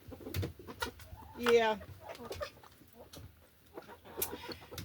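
Hens cluck and coo softly inside a chicken coop with wood shavings, one louder squawk standing out among scattered calls, and a person briefly murmurs nearby.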